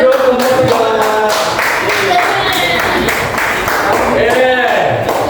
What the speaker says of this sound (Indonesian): Tepuk tangan untuk the girl.